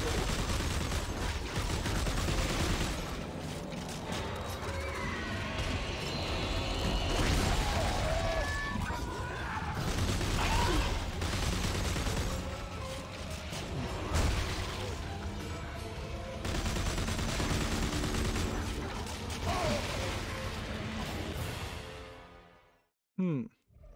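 Sustained video game gunfire and explosions rattle through a dense, loud battle, with bursts and booms layered over constant noise before cutting off abruptly at the end.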